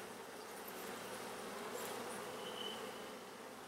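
Honeybees swarm around an opened hive in a continuous soft buzzing drone, faint and steady, with an occasional louder bee passing near and no voices.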